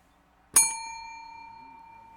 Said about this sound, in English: featuring a bell. Ding.